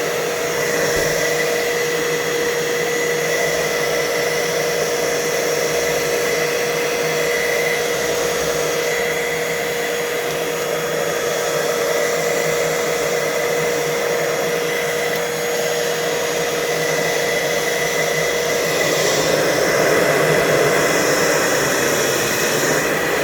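A Hoover Total Home Pet vacuum cleaner runs steadily during an airflow test, a loud, continuous motor whine and rushing air with a constant tone and a slight swell near the end.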